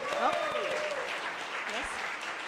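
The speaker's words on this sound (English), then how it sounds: "we will all give heartfelt applause" A church congregation applauds to welcome a new member, with brief, close clapping mixed with voices and exclamations.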